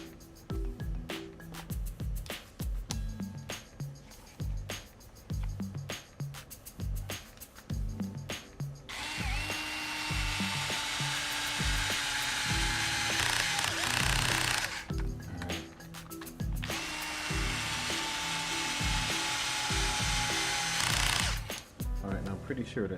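A power driver spins screws into an RC model during reassembly after a bearing swap, whirring loudly in two long bursts of several seconds each, with clicks, handling noises and a person talking in between.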